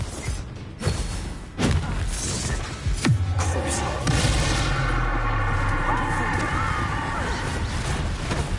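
Blasting spell explosions from a Harry Potter video game, heard as several sharp booming bursts with rumbling debris and clattering under a dense, busy battle soundscape.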